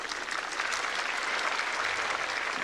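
Sustained applause from a tennis crowd at the 1979 Australian Open final, a dense, steady wash of clapping filling the whole stretch at moderate level, with no voices standing out.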